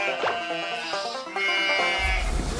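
A sheep bleats in a short, wavering call, loud and close, with no talk over it.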